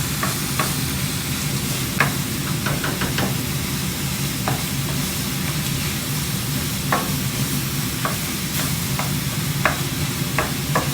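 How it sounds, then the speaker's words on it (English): Sausage browning in a pan for a pepperoni lasagna, a steady close sizzle with scattered clicks and scrapes of a utensil stirring the meat throughout. "you have to be sure to cook the sausage all the way through to where it's nice and good and brown"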